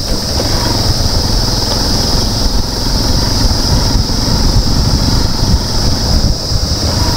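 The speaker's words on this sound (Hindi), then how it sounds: "बाइक की पूरी ताकत लगी हुई है वैसे।" A motorcycle engine labours steadily under load while climbing a steep mountain road on the Kedarnath pilgrimage route in the Himalayas, a continuous loud droning hum mixed with rushing wind noise, with no voices over it.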